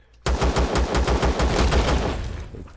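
Auto turrets in the video game Empyrion fire a rapid, steady burst of about a dozen loud gunshots that starts abruptly and fades toward the end.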